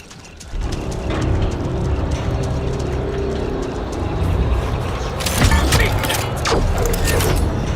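A weapon is reloaded in the video game The First Descendant: steady, close mechanical clicking and ratcheting that runs throughout, with brighter metallic snaps near the end.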